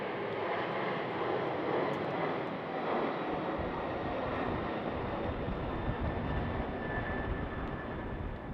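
A DHL cargo airplane lands at Schiphol on runway 18R in winter conditions, its jet engines a continuous loud roar that rumbles low and steady from start to finish.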